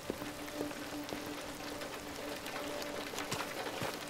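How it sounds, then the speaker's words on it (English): Steady rain falls in Detroit: Become Human as a continuous soft, even hiss of drops hitting surfaces, with a faint tonal hum and a few sharper drips scattered throughout, and no voices. "they're really, really putting rain in here like it's real"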